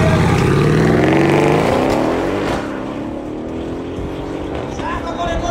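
A Mercedes-Benz CLS 63 AMG with a V8 biturbo and an Audi TT Coupe launch in a quarter-mile drag race, their engines roaring loudly and revving hard up through the gears before the noise fades into the distance.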